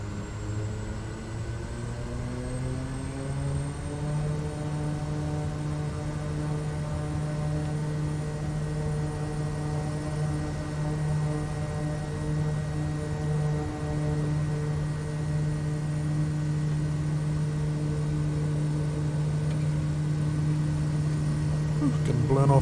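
Kodiak 100 single-engine turboprop in Microsoft Flight Simulator spooling up to takeoff power, a steady droning engine tone with a rising whine early on, holding loud and constant for over twenty seconds with faint speech underneath.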